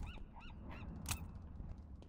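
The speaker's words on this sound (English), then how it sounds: "Seagull's laughing at you" Seagull calls in a video game, a short run of repeated nasal, laughing cries at an even pace, fairly close, followed by a sharp click over a low steady background hum.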